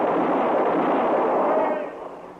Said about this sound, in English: Just keep firing, Chester.